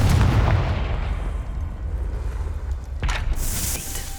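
A Confringo blasting spell from the Hogwarts Legacy video game goes off as one heavy, booming explosion. A deep rumble rolls on afterward, then a brighter crackling burst lands near the end.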